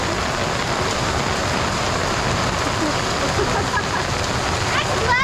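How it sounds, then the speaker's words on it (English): Heavy rain pours steadily during a severe storm, a dense, constant roar of water with no letup, as people talk over it. "We need the rain."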